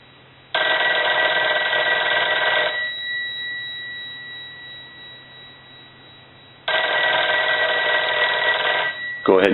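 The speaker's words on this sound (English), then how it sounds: "So we want to go ahead and ring the telephone. We're going to let that go a few times." Western Electric 302 metal-body telephone bell ringing loudly in two long bursts separated by a pause, harsh metallic ringing up close.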